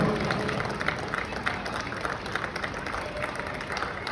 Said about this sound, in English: Can you please have a big round of applause?